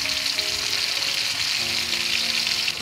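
Boiled lembayung leaves stirred in a pan over a wood-fired stove, giving a steady broadband sizzle and scrape that continues evenly throughout, fairly loud and close, with no talking.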